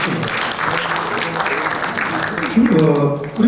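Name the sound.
audience applause at seminar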